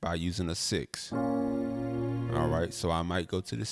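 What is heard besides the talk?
No distinct noise like a dog, phone or traffic.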